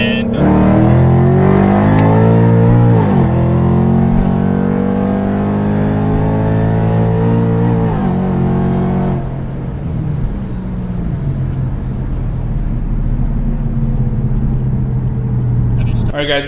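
A supercharged Ford Mustang with 3.31 gears accelerates hard in second gear from a roll, its loud engine note climbing in pitch, then easing off to a steady drone, heard from inside the car.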